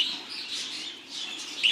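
Show budgerigars chirp and twitter in a breeding aviary, a steady stream of high, busy calls at moderate distance with no talk.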